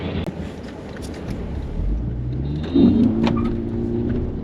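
A premium sedan in sports mode with the accelerator floored, its engine note heard from inside the cabin swelling steadily and loudly as the car pulls hard, with no speech.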